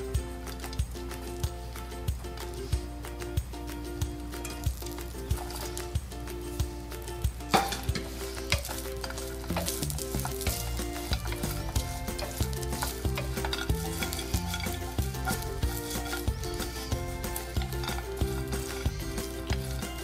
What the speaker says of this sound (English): Now add fried baby corns and stir it all together.